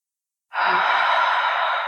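A single deep inhalation during a rib-cage mobility breathing exercise, entering abruptly after half a second of silence and holding steady as a long, close, breathy draw of air.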